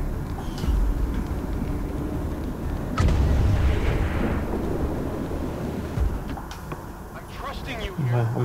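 Grenade explosions in the video game XCOM 2, heavy booming blasts and rumbling debris under battle noise, with a voice talking over the action.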